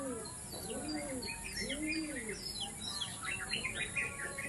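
Pigeons from a Japan-banded racing pigeon loft coo in low, repeated rolling calls, with a few faint chirps from other birds overhead against steady background noise.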